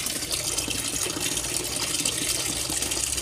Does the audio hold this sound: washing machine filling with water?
yes